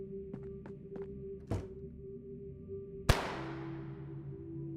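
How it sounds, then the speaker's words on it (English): A single gunshot fired from a rooftop in the game Kathy Rain 2: Soothsayer, one sudden loud crack with a long fading tail over a quiet, steady background hum. "I say I heard a gunshot."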